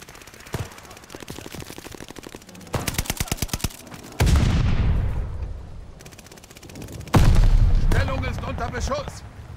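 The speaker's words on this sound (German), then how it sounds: "Schuss." Bursts of automatic gunfire and heavy booming shots from the video game Call of Duty Black Ops Cold War, loud rapid rattling volleys followed by deep blasts with long decaying rumble, repeated several times.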